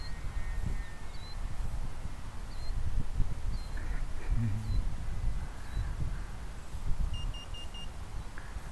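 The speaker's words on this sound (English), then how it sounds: "Yeah, beep, beep, beep, beep." An RC Beaver model plane with an engine running rough, near a short series of four quick electronic beeps late in the clip over steady outdoor noise and engine drone.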